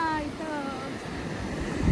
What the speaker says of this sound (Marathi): असं एकदम वाटतं ना वारा येत असताना जोरदार